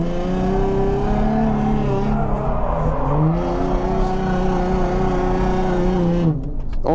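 A car drifts at a big angle, engine howling loud and continuous near the microphone, revs rising and dipping as tires scrub, then cutting off abruptly at the end.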